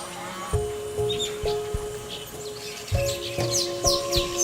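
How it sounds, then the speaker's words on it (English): Small yellow birds chirp and twitter in quick bright bursts among the branches of a park tree in Uganda, mixed with some louder tonal calls and light background noise. "These beautiful yellow birds live in this tree."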